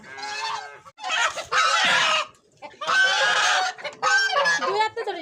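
A rooster gives loud, close, harsh calls in several bursts, with clucking and honking squawks between them and no other sound.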